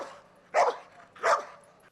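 A dog barks twice, in two short, loud bursts about three-quarters of a second apart, over a quiet night background during a village patrol.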